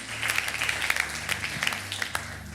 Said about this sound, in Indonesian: Tepuk tangan dulu buat Allah kita.